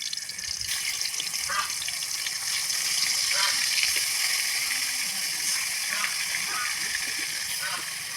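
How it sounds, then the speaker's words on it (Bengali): Fish frying in oil in a kadai, a bright, steady sizzle and crackle close by, with occasional clinks and stirring taps from a utensil throughout. "মাছটাকে ভালো করে ভেজে নিব।"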